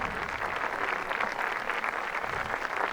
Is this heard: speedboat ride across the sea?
no